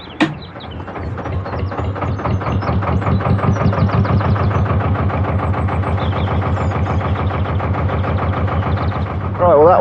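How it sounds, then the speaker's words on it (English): An old working canal boat's engine cranks and catches, then settles into a loud, close, steady rhythmic diesel chug that persists for several seconds, with a brief extra noise at the end. "Right, I'm just going to start the engine up."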